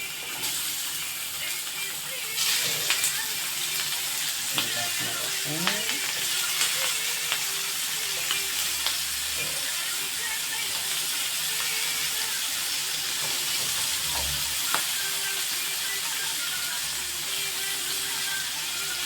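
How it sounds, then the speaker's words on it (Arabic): Potatoes frying in oil beside shrimp grilling in a pan give a steady close sizzle and hiss, with occasional stirring clinks and scrapes. "بطاطتنا تتقلى من هنا، ونحطوا الكعبات الكروفات نتاعنا نشويوها من هنا"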